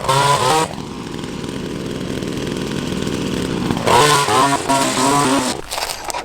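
Wild Badger Power 26cc gas-powered hedge trimmer running close by, a loud buzzing two-stroke engine that revs up, holds a steady drone for a few seconds, then revs again in bursts.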